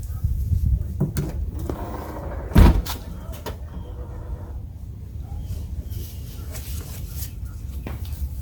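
A BMW X-series SUV's rear hatch is worked: rattling handling noises, then a loud hatch slam near the middle, followed by quieter clicks and knocks, close by with no speech.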